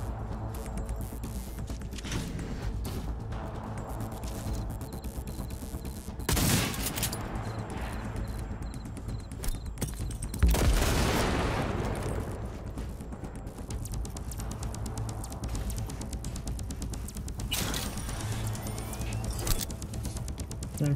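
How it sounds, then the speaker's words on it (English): Bursts of video game gunfire, loud cracks at about six, ten and seventeen seconds over a low rumbling background, with quieter scattered shots between. "Guns."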